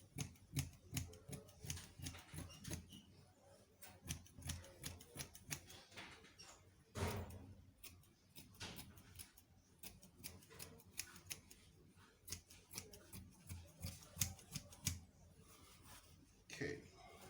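Scissors cut shirt fabric for a button cover flap in quiet repeated snips and clicks, with a sharper cluster near the middle and short pauses between the cuts.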